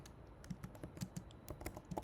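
Irregular clicking of keys on a worn computer keyboard, some buttons sticking, with quick close taps through a Rust coding session and no talk.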